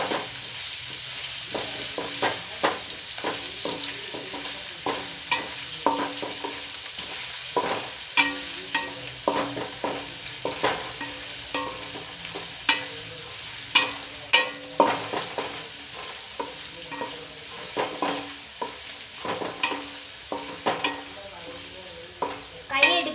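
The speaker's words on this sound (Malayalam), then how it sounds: "പച്ചയിഞ്ചി ഇനി നമുക്ക് മിക്സ് ചെയ്യാം" Green ginger and green chillies stirred in an oily pan for mango pickle, a steady sizzle with repeated spatula scrapes and taps in an irregular rhythm throughout, close and moderately loud.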